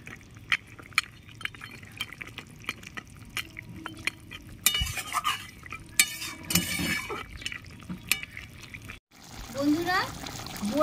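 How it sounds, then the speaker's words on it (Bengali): Rohu fish curry with fried bori and potato simmers in a pot, soft bubbling and liquid stirring with spoon clinks close by, while a person speaks over parts of it. "সব এবার ভালো করে ফুটিয়ে নেব।"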